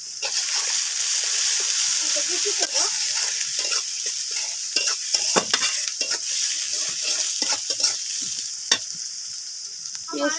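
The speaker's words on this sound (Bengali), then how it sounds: "পেঁয়াজটা একটু ভাজা ভাজা করে নেবো" Chopped onion, garlic and green chilies sizzle loudly in hot oil, a close, constant frying hiss broken by scraping stirs and clinks of a spatula against the pan, with no one speaking.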